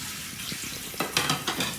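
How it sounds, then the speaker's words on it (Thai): Bowls being washed under a running kitchen tap, with a steady wash of water and a few louder splashes and clinks near the end, close by and without talk. "ล้างถ้วยนะครับ"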